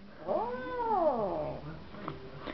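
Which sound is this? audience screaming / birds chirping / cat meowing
cat meowing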